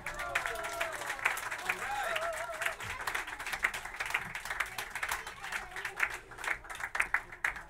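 Applause from a jazz concert audience, with steady clapping through the whole stretch while a presenter speaks over it.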